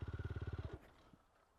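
A learner's motorcycle stalls when the clutch is let out too quickly with too few revs: a rapid, lumpy engine chug for under a second cuts abruptly into a clunk, then near silence.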